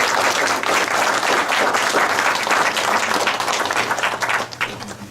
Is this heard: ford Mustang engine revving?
no